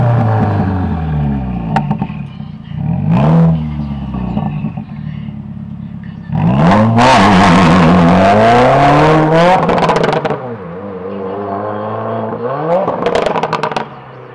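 A 2018 Subaru WRX pulls away under hard acceleration, its engine revving up through several gears in loud close rising sweeps with brief drops between shifts, no talking.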